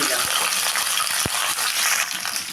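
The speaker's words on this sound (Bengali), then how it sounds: "আমি একটু ভেজে নেব শিমগুলোকে" Flat beans fry in a little oil in a wok with salt, turmeric and chilli powder, a loud close sizzle with a few sharp stirring knocks.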